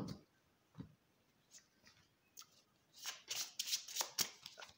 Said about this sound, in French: on peut tout à fait mélanger le jeu complètement